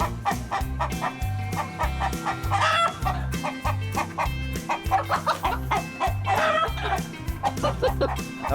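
Several chickens cluck close by in quick, overlapping bursts, with occasional louder squawks and rustling throughout.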